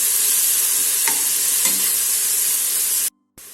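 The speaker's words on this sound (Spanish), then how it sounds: "vamos a echar ya nuestra cebolla y nuestro pimiento, un pellizco de sal y vamos a remover." Onion and green pepper sizzle in oil with a pinch of salt, stirred in a pan; a steady, close frying hiss with a couple of soft utensil scrapes, cutting out abruptly near the end.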